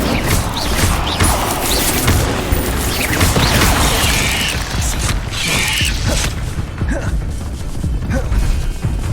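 The Incendio fire spell in Hogwarts Legacy, a video game, plays as a dense, continuous rush of crackling and roaring fire effects mixed with thuds and crashing impacts for several seconds.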